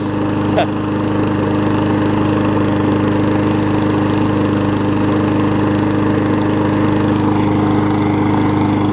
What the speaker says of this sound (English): you can't ask for more than that from a lawnmower